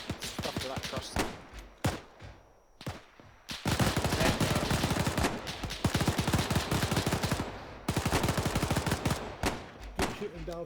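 Gunfire in the World War II video game Task Force Athena, rapid bursts of automatic shots crackling in long clattering volleys with brief gaps between them, loud and close, with occasional faint voices beneath.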